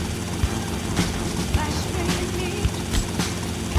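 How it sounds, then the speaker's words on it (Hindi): A helicopter flies in the video game GTA Vice City, giving a steady, loud rotor drone with faint rhythmic thumps that continues throughout. "हेलीकॉप्टर ड्राइव कर रहे हैं।"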